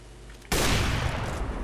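A loud burst of gunfire in Counter-Strike: Global Offensive erupts abruptly after a quiet moment and continues as a dense, close barrage for about a second, with no voices.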